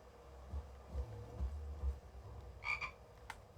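A frog croaks in Skyrim with a frog mod, a few low throaty croaks at a moderate distance, followed by a higher chirping call, with no talk.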